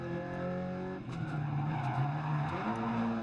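A rally car in a video game drifts with tires squealing, first as a steady engine tone and then as a sliding, wavering skid screech, fairly loud and close.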